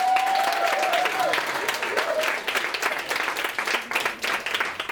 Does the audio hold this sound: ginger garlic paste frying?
no